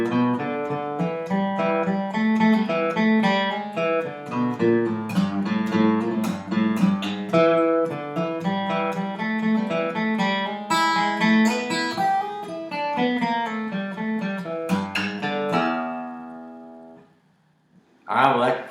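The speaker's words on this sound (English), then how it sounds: "One final thing that you can do is just play them back to back to combine them" Two country lead guitar riffs played back to back as one longer phrase, bright plucked notes and double-stops flowing continuously and up close, then ringing out and fading near the end, with no voice.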